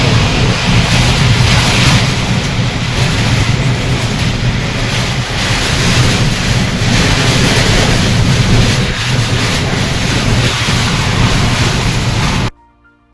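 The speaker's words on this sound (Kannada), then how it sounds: "ಭಯಂಕರ ಬಿರುಗಾಳಿಗೆ ತರಗಲೆಗಳಂತೆ ಹಾರಿ ಹೋದ ಶೀಟ್ಗಳು." A violent windstorm that tore metal roof sheets off village houses roars in a loud, continuous, gusting rush that buffets the microphone throughout, then cuts off abruptly near the end, with no one speaking.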